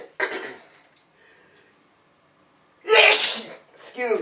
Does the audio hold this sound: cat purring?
no